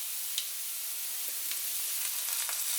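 Soy sauce sizzling in a hot pan with chicken and vegetables for fried rice, a steady, fairly quiet hiss with a few faint crackles and no talking.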